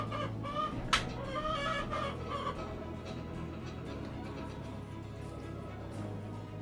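Hens cluck and squawk in short bursts while laying eggs, over a steady low farmyard hum, with one sharper cackle early on, fairly close.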